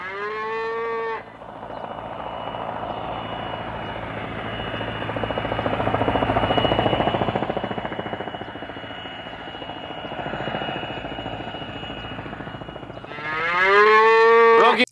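A cow moos loudly at the start and again near the end, with a steady helicopter rotor drone filling the middle.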